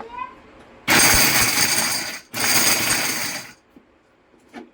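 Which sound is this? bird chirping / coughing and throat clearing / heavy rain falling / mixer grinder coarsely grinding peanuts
mixer grinder coarsely grinding peanuts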